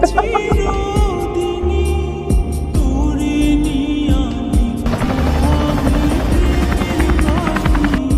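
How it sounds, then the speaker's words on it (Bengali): A helicopter flies nearby: a loud, steady rotor and engine drone with a whirring tonal hum holds throughout, and no voices are heard. "আপনার লোকেশনে হেলিকপ্টার পাঠানো হচ্ছে।"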